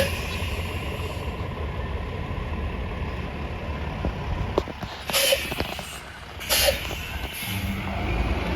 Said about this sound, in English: Here's the MTA bus on the B29.